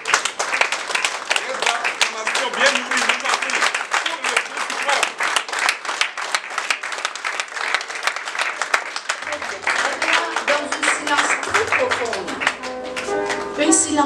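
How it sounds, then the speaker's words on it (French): Sustained applause from a conference audience at an interfaith gathering in Lomé, dense rhythmic clapping filling the hall for the whole stretch, with voices and music rising beneath it toward the end. "on va applaudir jusqu'à ce que cette bâtiment va s'exploser"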